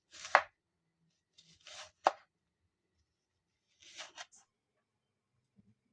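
A knife chops onion and garlic into small pieces on a cutting board. There are a handful of crisp, close chops with quiet pauses between them in an otherwise still kitchen.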